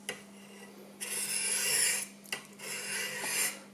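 A kitchen knife is honed on a Work Sharp WSBCHAGS mechanical angle sharpener as the burr comes off: two close, dry rasping strokes, each about a second long, separated by a short pause.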